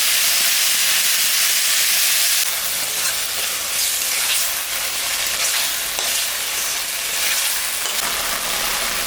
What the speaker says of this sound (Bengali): আলুটা ভাজা ভাজা হয়ে গেছে, এখন আমি লবণ আর হলুদ দিয়ে দিলাম